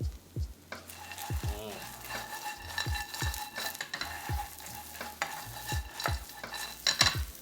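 Sliced red chili stir-fried with vegan soy protein in a pan, sizzling under repeated scraping stirs of a utensil against the pan, close and fairly quiet.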